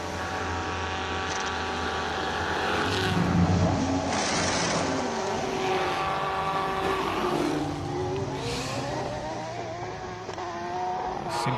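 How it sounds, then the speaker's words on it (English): A race car launches at a hill climb, its engine loud and close, revving hard and rising in pitch as it pulls away, then shifting and climbing again. It sounds alone, with no voices. "Let's pay attention to this launch."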